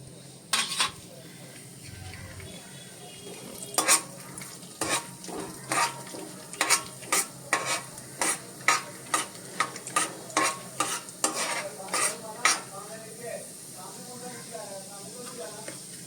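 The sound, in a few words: chana dal and urad dal frying in hot oil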